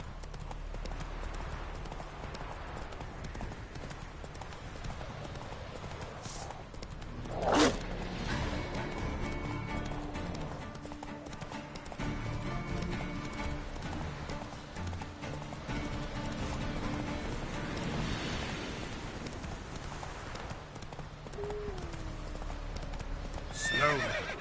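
Roach the horse in The Witcher 3 video game, hooves clip-clopping in a continuous, steady rhythm, with sharp neighs breaking through near the middle and again at the end.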